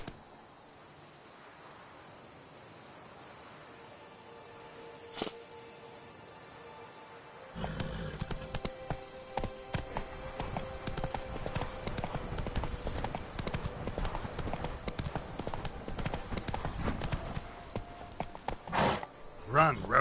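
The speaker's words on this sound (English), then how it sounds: "Run, Roach" Horse hooves clip-clopping in Witcher 3 as the mount breaks into a gallop, a steady drumming rhythm that starts quiet and swells loud, with game ambience underneath.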